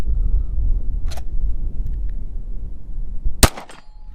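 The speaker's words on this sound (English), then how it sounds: "Glock 17, 2 10-round mags. Let's get it." A Glock 17 Gen5 MOS pistol with iron sights fires at a target: a faint shot, then a sharp, loud crack a couple of seconds later over steady low background rumble.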